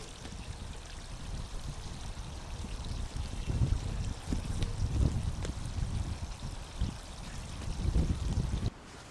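Water pouring and trickling into a pond liner as the liner is gradually pulled in so water fills the shelves; a steady close splashing gurgle with irregular surges, no speech.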